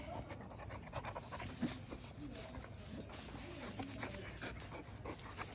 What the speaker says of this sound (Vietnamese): Chó.